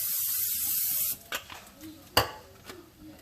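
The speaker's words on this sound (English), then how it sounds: "I'm going to spray some palm oil, olive oil here" Palm oil and olive oil are sprayed into a pan in a steady hiss lasting about a second, close and loud, followed by a few light clicks and taps.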